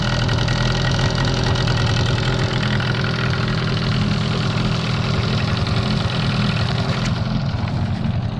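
A new Sharmax SM 9.9 HS outboard boat motor on its first run, smoking from extra oil, holds a steady, loud mechanical drone without pause, close by and alone with no talking.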